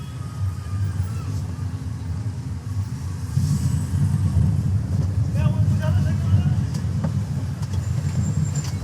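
A manual car's engine pulls away slowly as the clutch is released in narrow, busy city traffic, a steady low rumble close by, with a voice talking over it.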